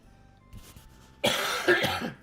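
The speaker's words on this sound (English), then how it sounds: "I had to say stuff about coughing, and now I'm coughing." A faint throat sound, then a loud, close burst of harsh coughing lasting about a second, with no talking.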